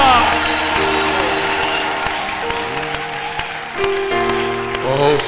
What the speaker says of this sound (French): Applaudissez plus fort pour Jésus